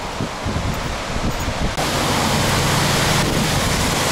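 Water rushes steadily over a weir at a sluice or dam, a loud, continuous broadband roar that grows fuller partway through.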